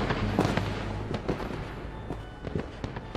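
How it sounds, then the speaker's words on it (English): Fireworks set off in the video game Red Dead Online pop and crackle in several fairly quiet bursts over a soft, busy background, with no talk. "Did you know that you can activate fireworks in Red Dead Online"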